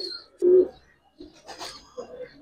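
Pigeons of the Giribaz breed, females of flying stock, give a couple of low cooing calls, the first loud and close, amid someone talking.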